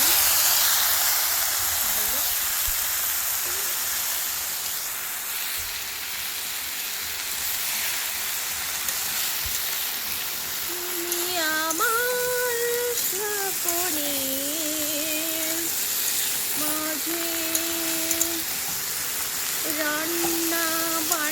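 Cauliflower and other vegetables fry in a wok over a gas flame, giving a steady close sizzling hiss throughout. A tonal, voice-like sound rises over it in the second half.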